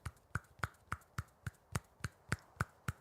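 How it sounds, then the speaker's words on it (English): Eleven sharp, evenly spaced one-handed claps, one roughly every quarter second, crisp and close with quiet between them. "Yeah, you can clap with one hand."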